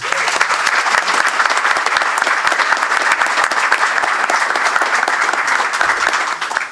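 A large audience at a press conference on Old Dominion joining the Sun Belt Conference applauds steadily to welcome the university's ninth president, Brian Hemphill, dense, loud clapping sustained throughout without a break.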